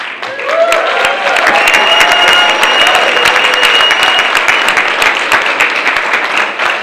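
Sustained, loud applause from a crowd at a Plymouth County Democratic League breakfast, greeting Senator Michael Brady's introduction; dense clapping runs steadily for about seven seconds with cheers faintly mixed in.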